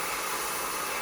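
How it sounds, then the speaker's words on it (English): A handheld blow dryer fitted with a nozzle, drying hair and held a little above the head, gives a steady, close, broadband whoosh with no talk over it. "keep the blow dryer, not right on there, but up a little higher so you're not burning any hair"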